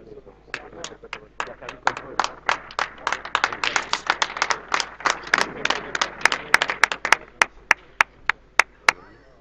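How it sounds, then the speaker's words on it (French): Applause with sharp claps from a crowd at a professional pétanque quarter-final in Monaco, greeting Henri Lacroix's team after their win over a local side; the clapping starts ragged, grows dense, then thins to a few loud, isolated claps near the end. "Les applaudissements que vous attendez sont envers l'équipe d'Henri Lacroix qui s'est imposée encore sur une équipe locale."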